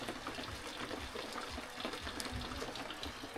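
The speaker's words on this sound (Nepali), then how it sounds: "पानी परिरहेको छ, बादल पनि देखिरहेको छ त्यता।" Rain falls at the Surka viewpoint on a mountain trek in Langtang, Nepal, a faint, even wash of patter and dripping water with no voices.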